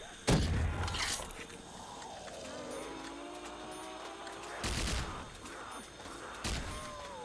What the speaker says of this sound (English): It's a laser, whatever it is.